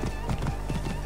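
Horse hooves clip-clopping in Assassin's Creed Origins, a steady run of close, fairly loud hoofbeats over a continuous game background for about a second.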